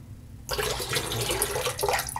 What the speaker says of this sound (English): Pour up that water